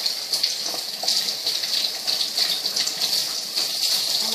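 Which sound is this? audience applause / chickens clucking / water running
water running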